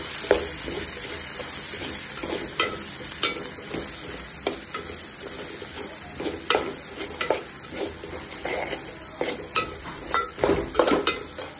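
A spoon scrapes and clinks against a pan in irregular strokes while masala with garam masala sizzles steadily underneath, close and fairly loud.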